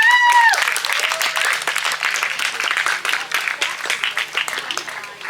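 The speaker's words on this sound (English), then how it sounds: "Give them a round of applause." Audience applause at a storytelling night, steady crowd clapping that fills the whole stretch after a brief tonal sound at the start, fairly loud and close.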